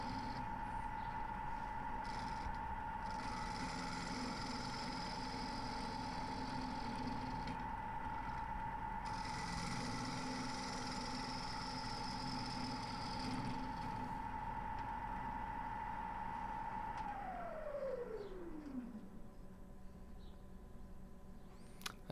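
A wood lathe spins an ash live edge crotch bowl with a steady motor whine and sustained hum, joined by rough tool scraping, before the motor spins down with a falling pitch near the end.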